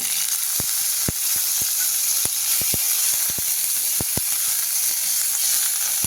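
Green chillies sautéing with garlic in a pan for a sweet-sour chilli thecha, giving a bright continuous sizzle dotted with sharp pops and crackles.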